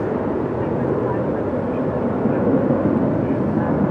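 A Solar Impulse solar-powered aircraft descends low on approach to land at JFK, heard as a steady, broad engine-like roar that holds evenly throughout, with people talking nearby over it.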